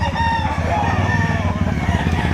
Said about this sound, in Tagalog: Daming dalang manok ni na kuya.